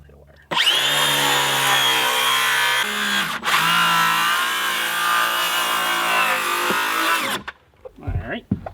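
A power saw fitted with a Diablo demolition blade cuts through wooden cabin siding in one loud, sustained whine lasting several seconds with a short dip midway, then winds down to quiet handling noises.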